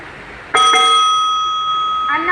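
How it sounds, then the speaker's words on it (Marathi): A bell rings to start a school speech competition, a sharp sustained electric ring cutting in loud and close after a quiet moment, holding steady for about two seconds, with a voice beginning at the end. "नाव झाल्यानंतर बेल वाजल्यानंतर स्टार्ट"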